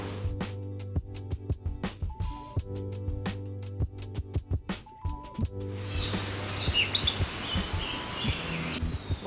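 Birds chirping in a free aviary in Hong Kong, many sharp repeated chirps and tweets close by over a steady hum, becoming busier and noisier toward the end.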